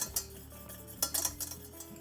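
Cream being stirred in a pot on the stove, the utensil scraping and clinking against the pot in a few quick, close strokes with no talk.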